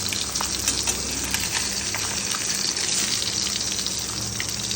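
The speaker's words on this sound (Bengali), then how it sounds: "বাকি মাছগুলো কিন্তু ঠিক একইভাবে আমরা ভেজে নেব।" Rohu fish pieces frying in hot oil give a loud, steady, crackling sizzle that carries on without a break and with no voices over it.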